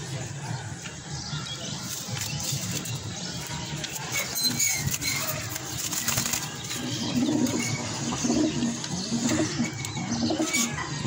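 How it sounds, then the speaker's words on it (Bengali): Pigeons coo softly beside newly hatched chicks in a loft, low rolling calls under steady background noise with occasional wing flaps and rustling. "দেখা যাক কবুতরের বাচ্চা ফুটেছে কিনা"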